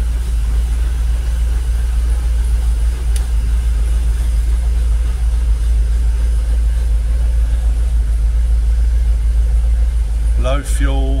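A Jaguar XKR engine idles just after startup, a steady, loud, low rumble holding evenly for the whole stretch, with a brief sharper sound near the end.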